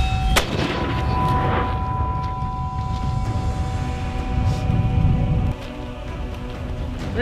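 Artillery gun firing on a half load, charge 2, during a U.S. Marine call-for-fire exercise in Operation Steel Knight: a sharp report near the start, then a long rumbling roll of noise that drops off before the end.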